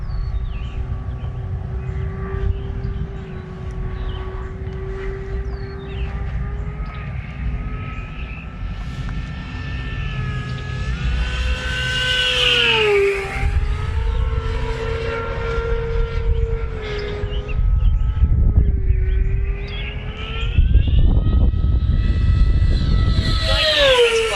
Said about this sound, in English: You can hear the prop blocking the air, even though the motor is trying to prevent it from spinning.